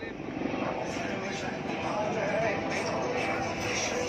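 An HAL Prachand light combat helicopter's engine and rotor drone steadily overhead, loud and continuous, with a crowd murmuring underneath, at Aero India 2023.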